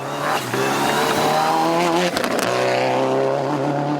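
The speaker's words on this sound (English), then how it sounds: "Baldev Chaga and Raju Semi were pushing the N14 as hard as it would go" A Nissan N14 rally car driven flat out on a Kenyan gravel rally stage, its engine roaring loud and close with rising and falling revs and gear changes, continuous throughout.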